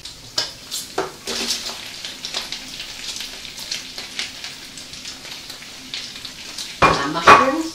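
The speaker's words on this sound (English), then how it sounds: "The bacon's cooking well, it needs to be crispy, so give it a chance to crisp up." Bacon and onions fry in a pan for a chicken, mushroom and bacon pie filling, giving a continuous close sizzle with scattered pops and occasional stirring scrapes, and a louder burst near the end.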